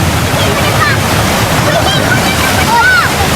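Steady broadband roar of water pouring down Palugtok Falls in Sta. Magdalena, Sorsogon, close and continuous, with faint voices and a few high calls drifting over it.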